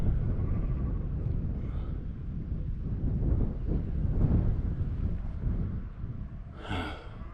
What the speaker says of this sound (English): This wind's picked up a bit.